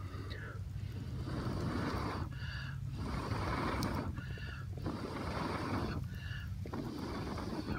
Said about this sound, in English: all I'm doing is just kind of blowing at the base of it, kind of get the fire stoked back up